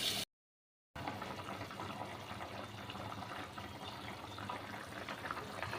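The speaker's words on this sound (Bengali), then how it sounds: "তো দেখো ফুটেই গেছে মোটামুটি, আর একটুখানি ফুটবে, ঝোলটা আর একটু কমুক।" A pot of potato curry simmers at a steady boil, giving a faint, even bubbling hiss after a brief silent gap at the start.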